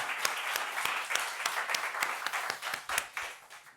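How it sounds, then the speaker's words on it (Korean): Congregation at a church service gives a round of applause to God, with many hands clapping together and several sharp, distinct claps standing out in an uneven rhythm across a few seconds. "하나님께 영광의 박수를 올려드리겠습니다."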